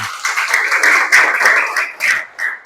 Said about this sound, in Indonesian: Tepuk tangan dulu buat Yudi ya.